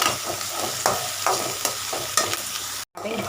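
Onions sauté in a pan for a lotus stem gravy, a bright steady sizzle broken by periodic stirring scrapes, close up, with a momentary dropout near the end.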